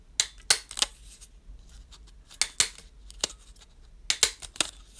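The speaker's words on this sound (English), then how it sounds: "I'm just going to use my hole punch to punch through" A handheld hole punch snapping through sheets of paper, sharp crisp clicks in small clusters of two or three, close and distinct against a quiet room.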